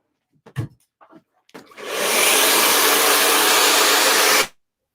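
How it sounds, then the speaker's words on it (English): A handheld blow dryer roars on at close range while hair is dried, a steady, loud whooshing hiss that runs for over two seconds before cutting off. A few brief clicks and handling noises come before it starts. "If not, let me know and I'll chat over the blow dryer."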